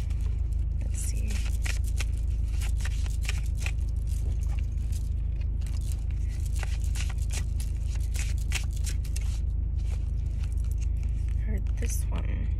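Tarot cards are shuffled close up in a continuous run of rapid riffling, flicking and scraping over a low constant rumble.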